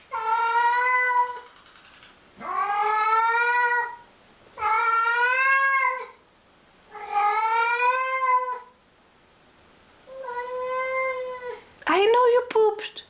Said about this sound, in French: petite interruption de chat qui a beaucoup parlé